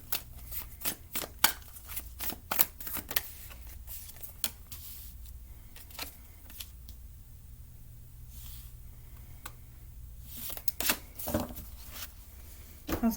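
A deck of tarot cards being shuffled by hand, with bursts of quick riffling and slapping that come in uneven clusters, close and fairly quiet, with pauses between.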